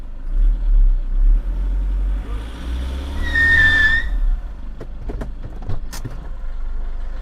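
Rear wheels of a 2013 Toyota Innova G automatic with the 2KD diesel engine spin up, a rising whine swelling to a peak near the middle over a steady low diesel rumble, then fading, with a few sharp clicks toward the end.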